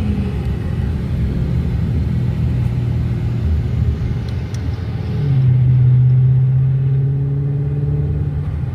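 A truck drives by as a steady, loud engine rumble that swells and deepens partway through, then holds; no one talks.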